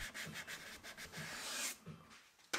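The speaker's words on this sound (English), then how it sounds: "I sanded it back with 100 grit" All-purpose filler on an MDF corner shelf is hand-sanded with 100 grit sandpaper, giving rhythmic, close, raspy back-and-forth strokes that slow near the end before a sharp knock.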